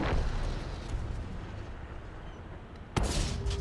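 A tank blows up in a video game, a sharp loud blast near the end that cuts in over a steady low rumble of battle noise, with the burst ringing on briefly afterward.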